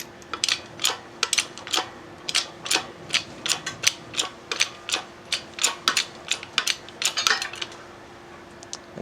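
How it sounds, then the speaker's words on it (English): A bearing splitter and press work a big end bearing off the cutter head shaft of a Hitachi P20SB planer, giving a run of sharp, evenly spaced metallic clicks and ratcheting ticks, close and crisp, with no talking. "we've just got our bearing splitter supporting that big end bearing on the cutter head, and so we'll just press on top of the shaft here and remove that one"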